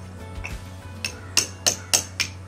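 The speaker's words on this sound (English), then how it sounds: "So he's chipping away and then he's scraping it out" Sharp hammer strikes chipping old mortar out of brick joints during tuck pointing, a few quieter taps followed by four loud, evenly spaced ringing blows over a low steady background hum.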